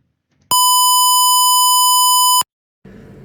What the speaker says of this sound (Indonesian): membunyikan buzzer dengan frekuensi 1000 Hz menggunakan fungsi tone